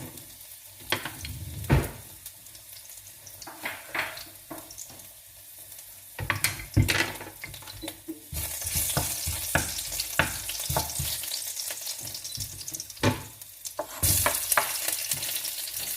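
String beans and ham fry in a pan, a loud sizzle broken by repeated stirring scrapes and clinks of utensil against the pan, with bursts of stronger crackling.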